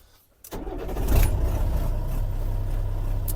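A Mercedes 814 truck engine cranks after a short quiet moment, then catches and settles into a loud, steady diesel idle running close by inside a smoky garage.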